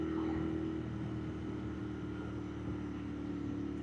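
Continuous droning cafe racer motorcycle engine and exhaust hum with a steady low rumble, like a motor idling or cruising, constant in level throughout.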